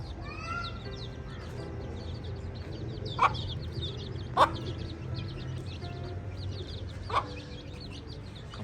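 Chickens cluck softly and intermittently around a backyard coop shared with young chicks and pigeons, faint and somewhat distant, with a few sharper bird calls poking out over a low steady background hum.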